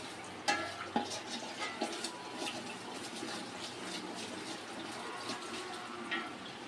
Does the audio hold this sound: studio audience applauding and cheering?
no